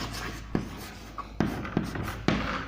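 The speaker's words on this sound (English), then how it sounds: "Now we write question number 21." A pen or pencil writing out an exam question on biology and reproduction, with several distinct scratchy strokes and taps spaced irregularly, close and fairly quiet with no talk.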